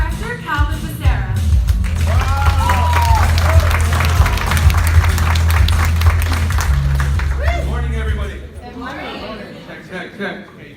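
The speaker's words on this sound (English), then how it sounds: "let's give a warm round of applause for Double Diamond Director Calvin Becerra." Loud, sustained applause from a conference audience at a Jeunesse business event in Orlando, steady for about eight seconds with music and cheering mixed in, then tapering off into scattered claps and murmuring.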